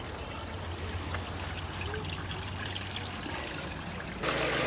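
Water runs steadily through the cleaned sluice outlet of a garden pond, a continuous close trickling rush with no voices, growing slightly louder at the very end.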